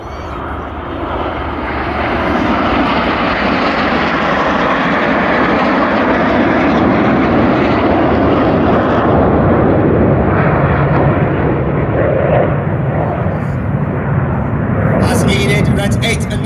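RAF Red Arrows jets fly a corkscrew during an airshow display at Old Buckenham, a loud, sustained roar that swells and holds steady throughout, with a commentator talking over it.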